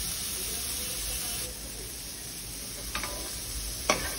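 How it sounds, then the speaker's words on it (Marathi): Marinated paneer fries in oil in a pan with a steady, close hiss and sizzle, and two brief scraping stirs near the end. "जे मॅरिनेट केलेलं पनीर आहे ते तेलावर परतून घ्यायचं आहे।"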